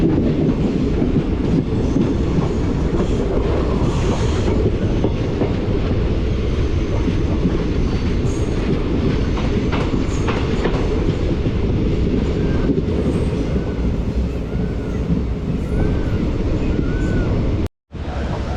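A train between Salem and Virudhachalam in India rumbles steadily along the rails, a dense, continuous roar close by with faint rhythmic clatter and no voices.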